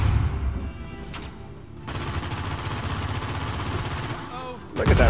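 Sustained gunfire in the video game Uncharted 4, a steady rattling automatic burst lasting several seconds with a heavier crack near the end, with speech around it.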